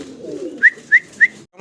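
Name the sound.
pigeons cooing, white bar Syrian shaker pigeons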